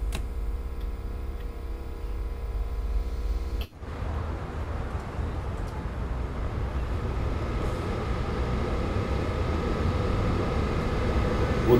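A BR 101 electric locomotive pulls away in Train Sim World 4 with a modded sound set, a steady rising electric hum and rolling rumble building gradually after a brief click, with faint rhythmic ticking throughout.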